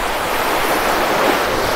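Sea waves break against a reinforced shore right beneath a seaside house in Spain, producing a loud, continuous broadband wash with no voices.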